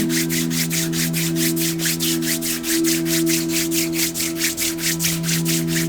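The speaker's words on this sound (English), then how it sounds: "Begin to just rub your hands together as you stop rocking." Hands rubbing together with a quick, even back-and-forth swish repeated close up, over a steady low hum.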